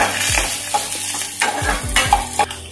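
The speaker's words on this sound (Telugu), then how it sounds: "నెయ్యిలోనే వేయించుకోవాలా." Coconut, cashews and raisins fry in ghee for festival prasadam, giving a close, steady sizzle with repeated scraping stirs of a spoon against the pan.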